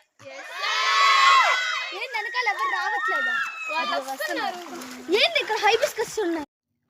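Children shout and whoop excitedly while crossing a stream near Sivakona waterfall on the Rapur ghat road, a lively overlapping cluster of high voices that rises, dips, and bursts again before cutting off.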